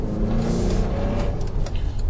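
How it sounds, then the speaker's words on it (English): A car engine rumbles steadily close by in slow road traffic, held up behind a broken-down car, a continuous low drone with no talking. "it looks like we've got stuck behind a car that's actually broke down now"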